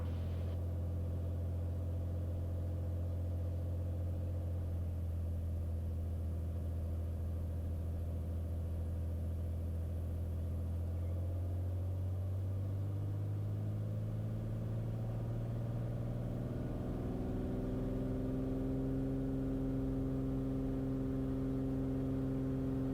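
A Bonanza's piston engine holds a steady low drone during the takeoff roll, then climbs in pitch as power builds and the aircraft accelerates, loud and continuous throughout with no talk.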